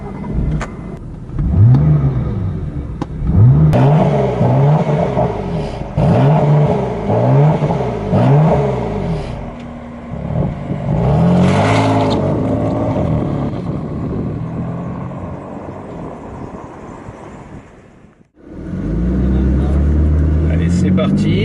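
A BMW M3/M4 accelerating on the Portimao circuit in Portugal, its engine rising in repeated rev sweeps through gear changes, loud and close from the cabin, under someone talking throughout.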